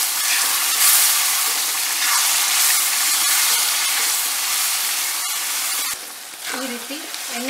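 Ground masala frying in oil in a pan for double beans pulao, a loud steady sizzle with stirring scrapes throughout, briefly quieter near the end.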